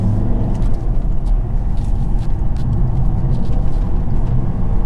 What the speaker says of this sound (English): the engine's been running for quite some time now